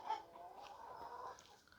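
Parrot-beak fan-tail chickens, hens now laying and brooding, give faint, soft clucking close by with no talk.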